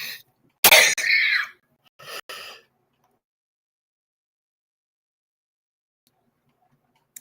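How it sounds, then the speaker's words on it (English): A single sharp cough rings out close by, followed after a pause by a shorter throat-clearing cough, then silence. "Sorry, I had to cough."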